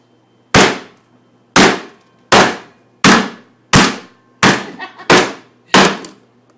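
Eight sharp, heavy whacks land about once every 0.6 seconds, each ringing briefly, as whole peppercorns are struck and cracked open for steak au poivre; nothing else is heard between them.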